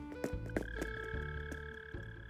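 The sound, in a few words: mole cricket chirping in Animal Crossing: New Horizons video game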